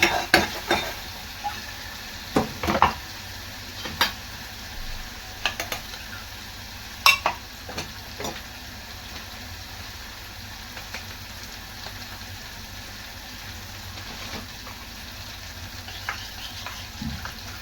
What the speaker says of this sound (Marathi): आणि ग्रेव्ही 5 मिनिटं तेल सुटेस्तोवर भाजून घ्यावी म्हणजे भाजीला चव चांगली येते